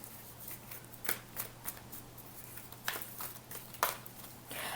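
Repeated soft papery riffles and flicks of a deck of cards being shuffled, irregular bursts close by over a faint steady hum, no talking.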